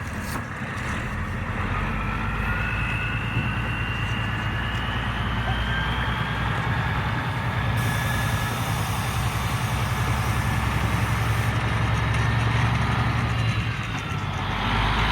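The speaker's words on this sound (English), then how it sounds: "Cool old truck though." A 1988 Kenworth W900B truck idling nearby, a steady low diesel rumble with even, continuous throb and faint wind noise, no voices over it.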